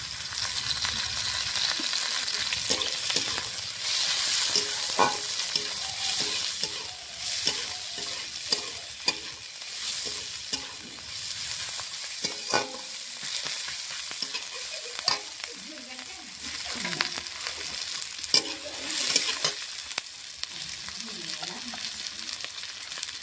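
Garlic and chopped chilies frying in mustard oil, a continuous crackling sizzle broken by repeated scraping stirs of a spatula in the pan, close and clear with no talking.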